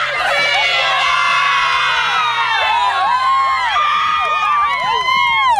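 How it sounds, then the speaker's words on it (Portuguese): The football crowd of Patrocínio cheers and shouts loudly, with many overlapping whoops and whistles rising and falling in a packed, lively stadium. "A torcida do Patrocínio estava animada com a vantagem no placar."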